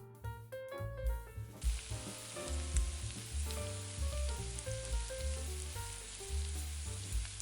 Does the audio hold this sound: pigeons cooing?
no